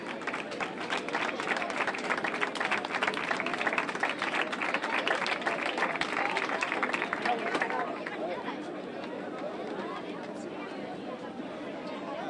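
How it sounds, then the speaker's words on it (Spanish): A crowd at the awards ceremony of a popular race claps loudly and steadily for several seconds, then the applause fades into general crowd chatter. "Fuerte aplauso para La Peña Dosa, que tiene aquí dos corredoras"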